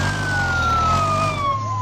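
A police car siren wails with a sweeping tone over the low rumble of traffic, heard from inside a small Fiat 126p, steady and fairly loud throughout.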